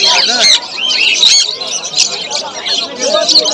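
Many pet birds, including lovebirds, chirp and squawk in shrill overlapping calls at a busy outdoor bird market in Uluberia, loud and continuous, with people talking among the cages.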